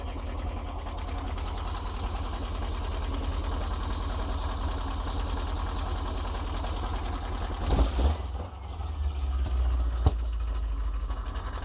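A Volkswagen bus engine, freshly worked on at the carburetor, runs steadily with a pulsing, slightly uneven beat, a short rev swelling near the end, then settles back; no talking.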